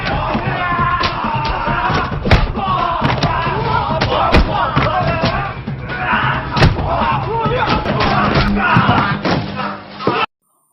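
Fight scene from the Indonesian action film The Raid, with dense repeated thuds, slams and impacts, shouted battle cries and grunts, and a steady rush of action under a continuous voice.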